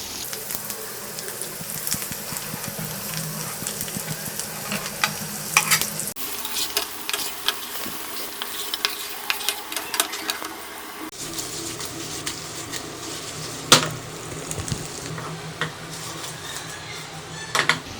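Goat brain frying with masala, mint and coriander in a pan, stirred gently with a spoon: a constant loud sizzle with repeated soft scrapes and clinks against the pan throughout, no voices.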